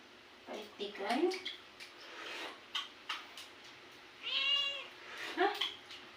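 A cat meows several times in a kitchen where fish soup is being cooked, short close calls with one longer drawn-out meow, mixed with a person talking nearby.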